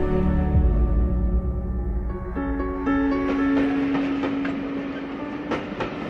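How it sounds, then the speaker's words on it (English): A train at a railway station: a low rumbling engine or idle with a sustained tonal drone, then clicking wheel and rail sounds building toward the end, continuous and fairly close. "At the train station"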